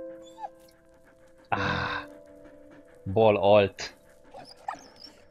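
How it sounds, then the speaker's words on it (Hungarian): A dog in Valiant Hearts gives a short bark, then a burst of quick, close panting, set against a quiet game backdrop with a little speech around it. "Kutya!"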